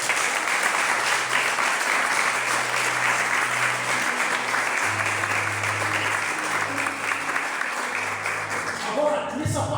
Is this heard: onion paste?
no